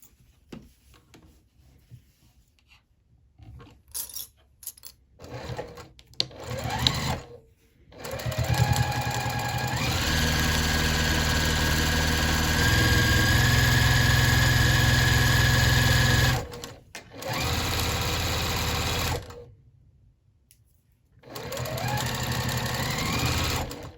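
A sewing machine topstitches along a fabric lanyard in short stop-start bursts that settle into a long, steady, humming run of rapid stitches, close and loud, with brief pauses and handling noises between runs.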